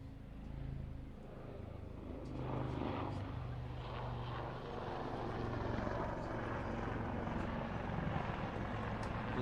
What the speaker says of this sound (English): this is made up of a Lynx HA Mark 8 and a Wildcat HA Mark II helicopter maritime attack helicopters